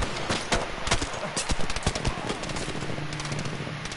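Rapid gunfire from a multiplayer video game match, dense bursts of shots cracking repeatedly throughout, with a low steady tone underneath and faint voices mixed in.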